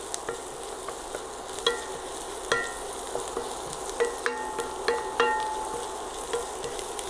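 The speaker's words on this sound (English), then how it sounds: "So this is half of a carrot, it's 1/4 cup. Let's add that in. Saute this." Half a carrot, about a quarter cup, sautés for an asparagus and carrot stir fry with a close, steady sizzle. A spatula scrapes and taps the pan again and again, and no one talks.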